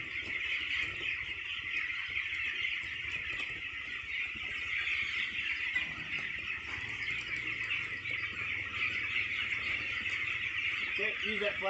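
Dense chorus of young chicks cheeping continuously on open pasture, a steady high twittering mass from many birds throughout, with low rumbling noise underneath.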